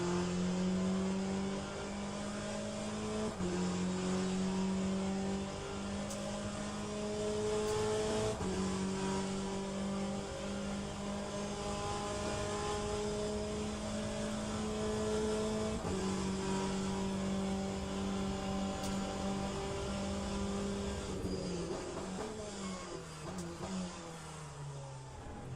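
A Peugeot race car engine in the racing game Le Mans Ultimate drones steadily at high revs, its pitch stepping up through gear changes and dropping off near the end, continuous and without speech.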